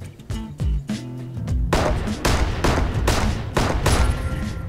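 Gunshots in the video game Six Guns, a rapid run of sharp, loud shots and bangs, starting as a few spaced blasts and then firing in quick succession.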